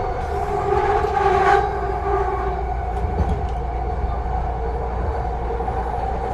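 A Vancouver SkyTrain runs overhead on elevated tracks above a city street, producing a steady rumbling drone with tonal whining that swells early on and then holds, heard from below with no talking.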